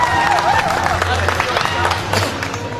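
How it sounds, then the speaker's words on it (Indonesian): Applause from an audience at the opening of a regional gathering in the Riau Islands, a dense, loud patter of clapping mixed with crowd murmur and voices, steady for a few seconds. "Mari kita sambut dengan tepuk tangan yang meriah."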